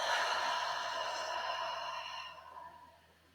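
A long, deep breath exhaled steadily and close during a guided meditation, a soft airy rush that fades out toward the end.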